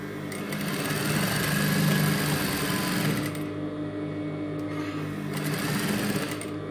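A sewing machine stitches with yellow thread and a yellow bobbin, a close, steady high-pitched whirring hum that runs continuously, easing slightly midway before resuming its even buzz.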